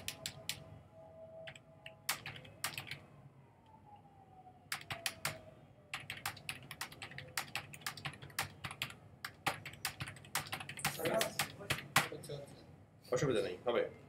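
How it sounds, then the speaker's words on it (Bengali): Fingers type on a computer keyboard while working in Adobe Illustrator, with quick irregular clicks in bursts, some keys struck singly like enter presses, up close and clear under a quiet room tone. "বাম হাতে এন্টার চাপেন আর ডান হাতে সংখ্যা লিখেন"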